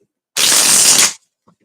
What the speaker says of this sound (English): but I'm going to keep shuffling.